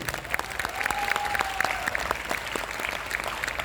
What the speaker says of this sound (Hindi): ये बहुत जोर से तालियां बजाने की बात थी।